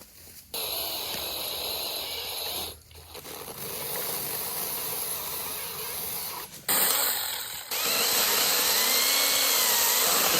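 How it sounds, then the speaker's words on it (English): A small mini chainsaw cuts wood at a forest cabin site while the foundation ground is cleared. The motor whines loud and close with a few brief drops in pitch, and it revs higher near the end. "Samson, go get me the mini chainsaw."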